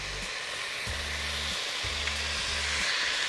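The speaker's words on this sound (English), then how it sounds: "We want to add in our chicken thigh, skin side down, to make sure that the skin is more crispy" Chicken thighs laid skin side down in a hot pan give a steady, close sizzle and hiss, broken by a few low hums in the background; no one speaks.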